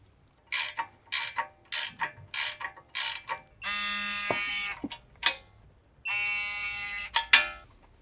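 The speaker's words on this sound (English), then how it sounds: "we'll grab the torque wrench and get those ball joint nuts torqued to 60 Newton meters" Torque wrench tightening the ball joint nuts to 60 newton meters on a 2022-or-later VW Mk8 Golf R during front control arm replacement; six quick ratcheting bursts followed by two longer ringing clicks, close and alone without talk.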